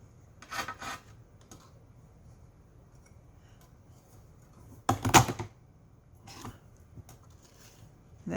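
A corner rounder punch biting through paper tags, giving a few sharp crunching clicks with quiet handling in between, close up.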